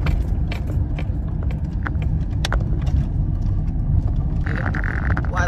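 A car driving on a road toward a market, a steady low rumble of engine and road noise filling the cabin, with faint ticks and a brief higher whine near the end.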